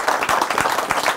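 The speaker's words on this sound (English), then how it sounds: "he deserves a round of applause" Applause from a woodworking club audience for a guest speaker, a short steady burst of many hands clapping close and loud.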